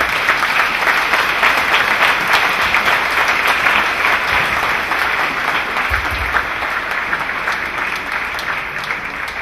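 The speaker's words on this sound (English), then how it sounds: "Let someone clap for Jesus Christ." A church congregation at a deliverance service claps and cheers for Jesus Christ in a long, loud, continuous wave of applause that holds steady throughout.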